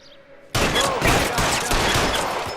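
Gunfire in the crime game L.A. Noire erupts suddenly after a quiet moment, a loud sustained volley of rapid shots that continues to the end.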